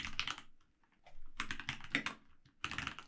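Computer keyboard keys clatter in fast, dense bursts as SQL code is typed, close and clear, with short pauses between runs of keystrokes and no talking.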